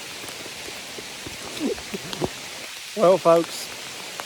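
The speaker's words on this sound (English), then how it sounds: "the rain is coming down, but my hopes aren't" Steady rain falls during a public-land deer hunt, a soft continuous hiss of drops throughout. Someone speaks briefly over it near the end.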